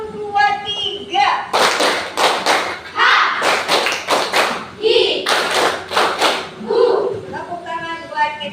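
In a classroom, a group of children join a rhythmic clapping game, striking sharp bursts of claps in counted sets, one, two, then three. A teacher's and children's voices chant between the clap groups.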